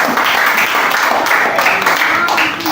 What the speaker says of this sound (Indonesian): Kalau begitu tepuk tangan buat kita semua